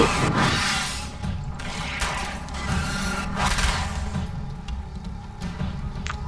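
Gunfire in the video game Alan Wake's American Nightmare: several sharp, booming shots land irregularly over a few seconds, loud and close, with a dense rumbling game soundscape beneath and no speech.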